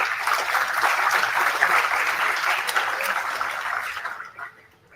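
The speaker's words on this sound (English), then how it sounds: "a round of applause for them" Steady crowd applause at a university B.Tech inauguration ceremony, dense and continuous for several seconds before tapering off near the end.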